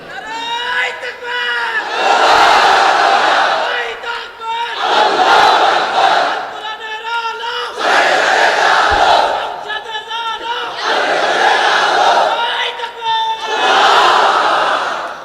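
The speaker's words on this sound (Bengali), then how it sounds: "তাকবীর পড়েন তো দেখি, আল্লাহর নামে পড়েন, লিল্লাহি তাকবীর।" Large crowd at an Islamic religious gathering in Khulna chants takbir (Allahu Akbar) in loud, repeated call-and-response bursts, several surging roars rising and falling in a steady rhythm.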